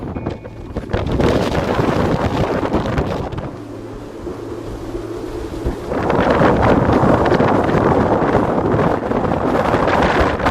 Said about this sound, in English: The wind not only picked up to over 30 knots last night, but also changed direction.